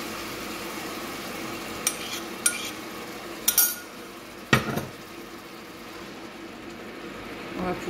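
Loubia, a bean dish with tomato, stirred in a cooking pot, with a few sharp clinks and scrapes of a utensil against the pot, spaced irregularly over a soft steady background.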